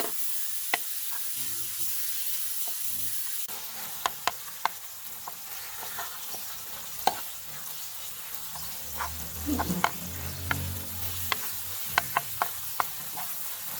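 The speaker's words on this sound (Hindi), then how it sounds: "अब हम तकरीबन 5 मिनट तक इसकी भुनाई करेंगे ताकि टमाटर अच्छी तरीके से गल जाएं" A tomato masala frying in ghee and being stirred in a pan, soft continuous sizzle with scattered sharp spoon knocks and scrapes against the metal, fairly quiet and close, with no speech.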